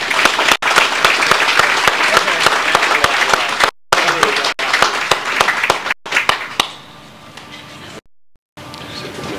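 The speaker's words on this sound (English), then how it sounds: "Let's give them a round of applause" Applause for participating lodges at a Masonic Home of Missouri 125th anniversary open house: loud, dense crowd clapping that runs for several seconds, broken by brief cuts, then fading into a softer patter.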